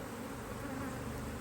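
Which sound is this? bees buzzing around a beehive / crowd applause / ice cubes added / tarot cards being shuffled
bees buzzing around a beehive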